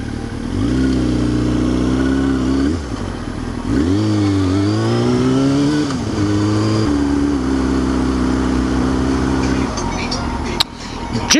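A Hyundai Accent car driving, its steady engine drone rising and falling with shifts in speed, loud and close throughout, with a brief clunk near the end and no talk over it.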